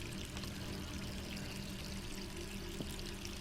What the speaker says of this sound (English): Can't believe I left the water on.